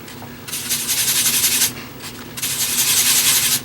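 A paintbrush scrubs red acrylic paint onto fabric in two sustained, close strokes of dry, raspy rubbing separated by a brief pause.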